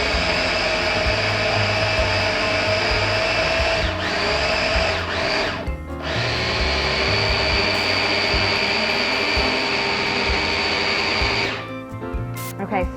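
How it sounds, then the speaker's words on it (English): A food processor whirs steadily as it blends chocolate mousse, a loud, continuous motor drone with a brief dip partway through and the blades spinning down near the end. "It's made right before your eyes in your food processor."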